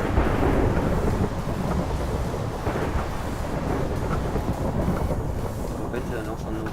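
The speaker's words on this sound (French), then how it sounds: "En fait ça lance un orage sur l'ennemi" Thunderstorm called down on an enemy in the Sheepwars video game, a continuous rumbling roar of thunder with rain and wind noise, fairly loud, while someone talks over it.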